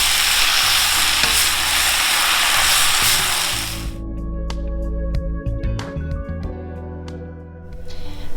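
Beef and wide rice noodles for beef chow fun are stir-fried in a hot pan, a loud hissing sizzle that abruptly drops to clattering and scraping of the spatula and tossing, close by with no talk.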